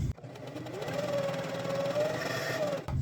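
A sewing machine stitches paracord onto a LARP shield cover with a steady, close mechanical whir. It starts and stops abruptly and runs alone for nearly three seconds.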